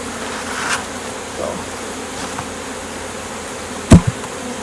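Honey bees buzzing steadily around an opened, well-populated beehive, a dense continuous drone close by, with a few individual bees zipping past and a brief knock near the end.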